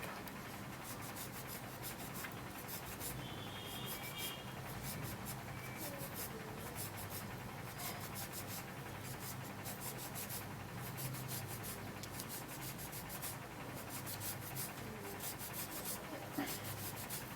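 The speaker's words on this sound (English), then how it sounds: "we only need the peel of the orange. Okay, so we're just going to be peeling this up." Orange peel being torn and peeled away by hand, a soft, steady rubbing and rasping texture that stays close and fairly faint throughout.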